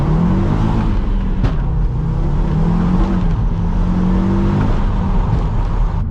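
A VW Caddy van fitted with a swapped Audi RS engine drives along, its engine note a steady loud drone rising and falling in pitch as it accelerates, heard from inside the cabin.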